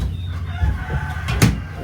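Chickens cluck softly in the background, with a short burst of crowing from a rooster partway through.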